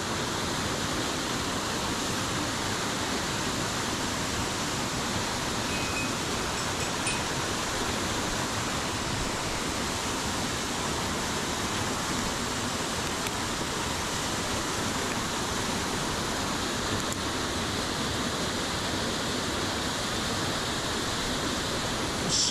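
A waterfall plunging into a mountain stream at a headwater fishing spot gives a dense, unbroken roar, loud and close, holding steady throughout with no talk over it.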